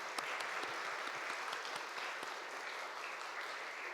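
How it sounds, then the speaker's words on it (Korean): Congregation applause during a church worship service, a steady dense wash of many hands clapping at moderate level, holding evenly throughout with no talk. "박수로 하나님께 영광 돌립니다."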